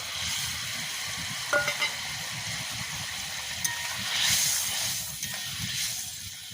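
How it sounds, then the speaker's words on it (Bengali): Fish curry gravy (macher jhal) boiling in a pot makes a continuous loud hiss and bubbling, swelling briefly toward the end with a couple of light clicks. "ফোটা শুরু হয়ে গেছে, আর একটু ফুটে গেলে মাছগুলো দিয়ে দেবো"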